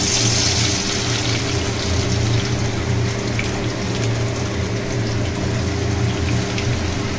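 Chopped garlic sizzling in hot mustard oil in a pan, a dense, steady crackling hiss that runs continuously at close range with no talking.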